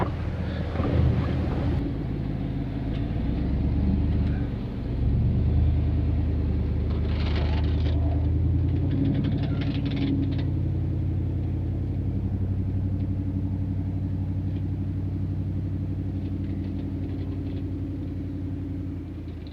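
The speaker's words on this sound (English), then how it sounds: "did you see that big truck just creep through here?" A heavy engine rumbles steadily at low pitch as a large work truck crawls past nearby in Glen Canyon National Recreation Area, Utah, loud at first and fading slowly, with no talking.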